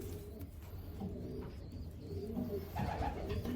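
A racing pigeon coos softly in repeated low throaty phrases, close but quiet, with faint background rustling and no talking.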